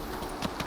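Roach the horse's hooves clip-clop in The Witcher 3, a quick pair of muffled steps on the ground, faint and close, with no talk over them.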